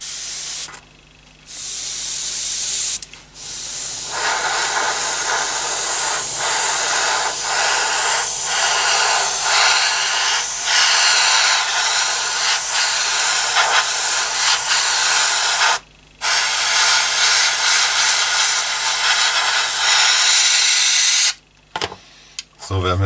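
Airbrush spraying paint onto the body of a 1/24 Revell Corvette C7.R model car, driven by a compressor: a loud, steady hissing spray that runs almost continuously, broken by a few short pauses.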